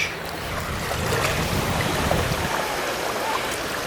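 Ocean waves wash steadily onto Mount Martha Beach on a hot day, a continuous broadband rush with a soft low rumble and no clear breaks, heard alone without talk.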